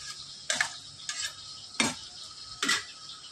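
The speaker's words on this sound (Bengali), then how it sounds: "ভালো করে নেড়ে চেড়ে" Meat being stirred in a pan for an Indian dish, with four separate scraping strokes of a utensil at a slow, uneven pace over a faint background sizzle, close but fairly quiet, without any voices.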